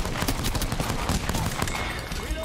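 Rapid video game gunfire rattles off in a dense burst of shots over a couple of seconds, loud and close, with some background game noise underneath.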